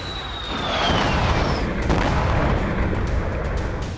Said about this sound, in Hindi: कई धमाके हुए।